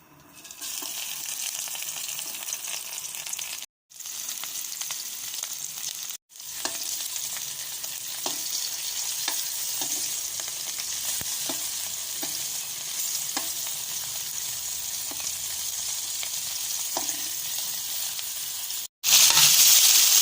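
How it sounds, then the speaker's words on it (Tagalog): Tomatoes, garlic and tuyo dried fish sautéing in a pan give a steady, close sizzle with light stirring clicks, broken by a few brief silent gaps, and no voices. "Yan, gisa ako ng kamatis, bawang at saka tuyo"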